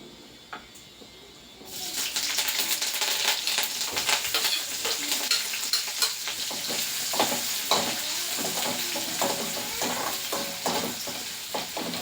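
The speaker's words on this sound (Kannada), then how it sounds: "ಈಗ ಬೆಂಡೆಕಾಯಿ ಕೂಡ ಹಾಕುತ್ತಾ ಇದ್ದೀನಿ." Okra is added to a hot oiled pan in a home kitchen and stir-fried. A sudden sizzle rises and continues steadily, broken by scraping stir sounds close by, with no talking.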